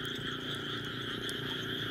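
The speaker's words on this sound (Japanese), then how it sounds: "ほら、カエルうるさい。" Frogs croaking in the rain outdoors at night in rural Japan, a dense and steady chorus with pulsing calls that fills the whole stretch loudly, with no voices.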